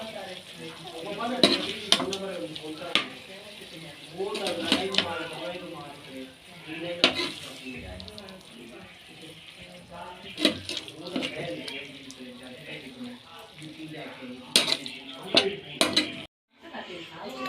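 Moringa flower and chicken curry being scooped out of a pan, with intermittent spoon clinks and scrapes against metal over a faint residual sizzle, close and clattery in bursts.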